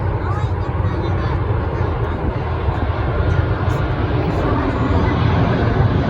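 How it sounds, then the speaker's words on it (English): A fixed-wing airplane passes overhead near a butte in the American Southwest, its loud, steady engine drone holding throughout with no break. "we got another plane coming right above us here at the butte"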